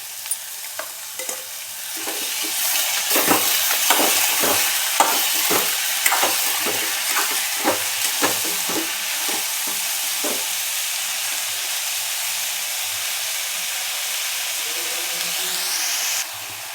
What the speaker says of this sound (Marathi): आपण टमाटा पण घालून घेऊया आता